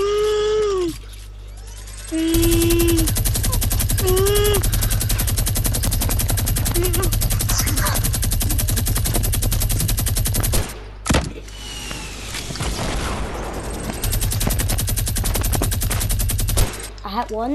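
Rapid automatic gunfire from small bullet weapons rattles almost without pause in a Fortnite match, loud and close, with brief gaps and bursts of other game effects between volleys; players talk at moments.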